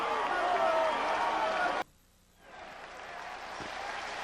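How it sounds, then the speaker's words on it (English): Stadium crowd at a 1996 ASU versus UCLA college football game applauding injured player Skip Hicks: a broad roar of clapping and cheering that cuts out abruptly, then returns as a softer, distant crowd murmur. "a round of applause for Skip Hicks, who is up and being assisted"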